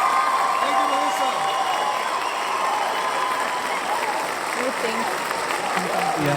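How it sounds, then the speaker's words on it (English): An applause sound effect plays during a podcast episode recapping Liga MX, a continuous wash of crowd clapping with some cheering, holding steady at moderate loudness while indistinct voices murmur underneath. "I want to go ahead and play some applause for her."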